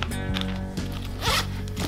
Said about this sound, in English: And this is a nylon zipper